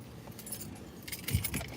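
Keys jangle in a car while waiting to board a ferry, a brief bright metallic rattle that swells near the end over a low vehicle rumble, with no talking.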